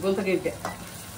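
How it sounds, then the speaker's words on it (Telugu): Gongura pachadi ingredients frying and roasting in a pan make a soft, steady sizzle with light stirring, briefly under a faint voice at the start. "ఇప్పుడు చూడండి ఎట్లా ఏగుతుందో. ఇప్పుడు రోస్ట్ అయింది."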